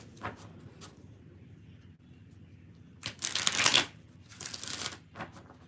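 A tarot card deck is shuffled close by: a couple of quick riffles, then a longer brisk flurry of card flaps and a final short burst, separated by quiet gaps.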